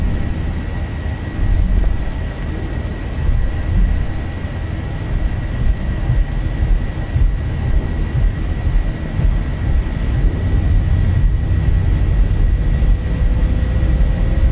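Airliner jet engines roar at takeoff power in the flight simulator X-Plane on a departure from Madeira, a loud, steady low rumble with a faint high whine running continuously throughout, with no talking.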